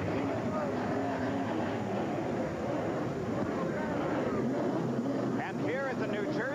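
Indy car engines building to a broad, sustained roar at the start of a 1987 CART race at the New Jersey Meadowlands, loud and continuous throughout, with a commentator's voice running over it and a few rising whines near the end.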